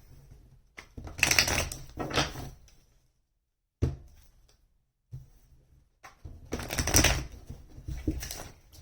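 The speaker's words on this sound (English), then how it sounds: "Let's shuffle these cards." Tarot cards being shuffled by hand in two bursts of riffling and shuffling, close and fairly loud, separated by a sharp thump and a short quiet pause.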